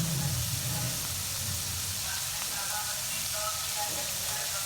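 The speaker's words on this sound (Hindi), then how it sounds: "इसे 1 मिनट तक फ्राई करेंगे।" Chicken and vegetables fry in a pan with a steady, even sizzle and hiss that holds at a constant level throughout.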